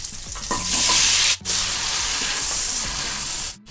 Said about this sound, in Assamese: এইখিনি তেলতে মই সিজাই লোৱা মাংসখিনিও ভাজি লম।